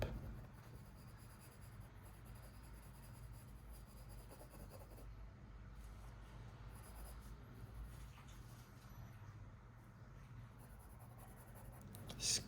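Pencil sketching fingers on paper while drawing a manga-style figure, a soft continuous scratching and rubbing of graphite, faint and close, steady throughout with no talking.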